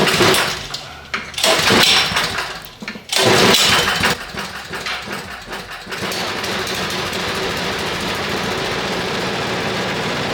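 A Toro PowerMax snow blower is pull-started by its recoil: a few rough cranking bursts with pauses, then the engine catches and settles into a steady, loud running drone.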